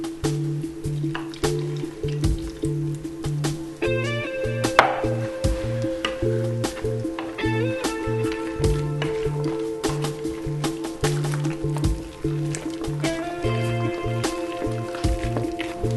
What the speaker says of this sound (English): This is our plant-based milk which we add into the potatoes.